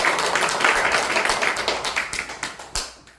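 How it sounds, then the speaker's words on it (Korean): A church congregation claps after a baptism certificate is read at Sunday worship, a short burst of dense applause that thins into a few scattered claps and fades out. "큰 박수 쳐주시기 바랍니다."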